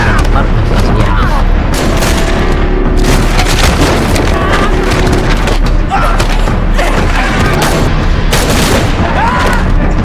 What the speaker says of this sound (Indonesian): Di sini terjadilah tembak-menembak adu mekanik antara Park